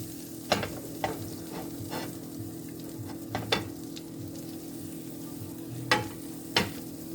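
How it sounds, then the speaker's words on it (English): Butter melting in a hot pan with a soft, steady sizzle, broken by a few sharp louder crackles and clinks near the start and toward the end, with no talking. "just make sure your pan is hot enough, but you don't want to burn the butter"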